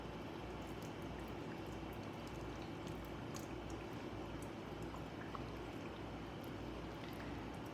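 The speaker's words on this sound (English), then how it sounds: "Look at them bubbles." Steady, continuous bubbling of water inside an electric Presto canner during home canning, a constant low rolling boil heard close up without any voices.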